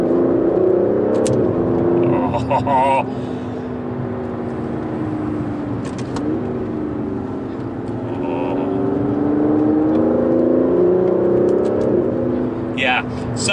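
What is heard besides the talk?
Aston Martin DB11 engine while driving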